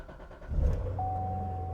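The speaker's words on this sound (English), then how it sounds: "So we're going to go ahead and fire it up." A C7 Corvette engine cranks and catches with a brief low roar, then settles into a steady, close idle while a thin electronic tone holds underneath.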